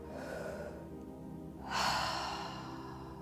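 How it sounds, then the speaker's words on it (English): A nice deep breath at the start of a guided healing meditation: a soft, airy inhale and then a louder sighing exhale, close and unhurried, with no talking over it. "just take a nice deep breath."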